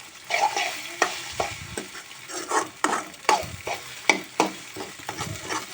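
Breakfast food fries in a pan while a spatula stirs and scrapes it, producing repeated rhythmic scraping strokes over a light sizzle, close and fairly loud.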